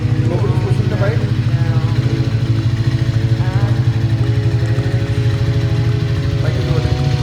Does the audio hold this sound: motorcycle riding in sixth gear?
yes